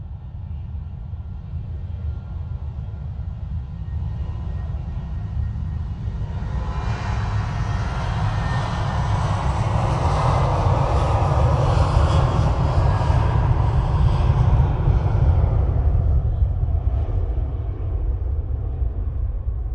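A KLM airliner taking off from Manchester Airport on a gusty day, its jet roar swelling to a loud broad peak mid-clip and then fading, over steady low rumble, with no talking.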